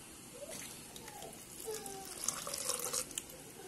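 Bitter leaf rinsed under running tap water, a thin steady trickle and splash close by with small sloshing and clinks as the leaves are handled, fairly quiet and without speech.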